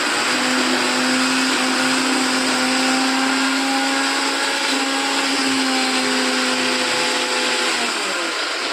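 An electric mixer grinder in a home kitchen runs steadily, its loud, continuous motor whine holding for the whole stretch with a slight dip in pitch near the end and no voices over it.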